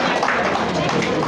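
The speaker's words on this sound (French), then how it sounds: "Sous vos applaudissements, s'il vous plaît." Audience applause at a French stage show, a steady dense patter of many clapping hands that fills the whole brief moment, with a voice talking over it.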